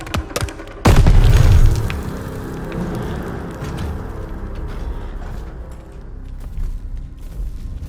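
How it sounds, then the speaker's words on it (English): A grenade explodes nearby in the World War II shooter Call of Duty: Vanguard, a single loud booming blast followed by lingering rumble and debris noise under continued battle ambience. "Grenade! Get down!"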